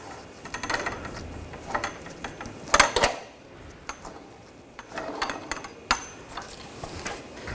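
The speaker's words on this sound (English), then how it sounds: "Now we'll just lower the pull jack" A car jack being lowered under a 2000-2006 BMW X5 during rear wheel hub bearing work gives off bursts of metallic ratcheting clicks and clanks, spaced irregularly, with quiet gaps between them.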